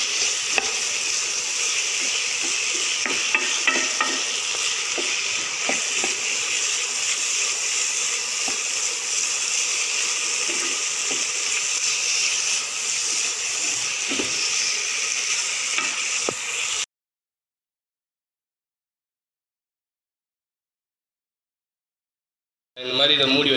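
Macaroni ingredients frying in a pan with steady stirring: a continuous bright sizzle with scraping spoon strokes, close and loud, running without talk before cutting to silence and a brief burst of sizzling at the end.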